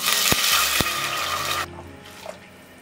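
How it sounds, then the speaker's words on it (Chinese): Boiling water is poured into a clay pot of hot oil with fried ginger, garlic, shallots and coriander roots, giving a loud, close rush of splashing liquid for about a second and a half before it cuts off to quiet bubbling. "配料炒出香味后，加入开水"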